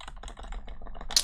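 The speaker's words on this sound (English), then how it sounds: "if I go back in here and press dot backslash and press enter" Quick keystrokes on a computer keyboard, about a dozen close, crisp clicks in a rapid uneven run, ending in a slightly louder key press.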